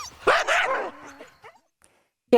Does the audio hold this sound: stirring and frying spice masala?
no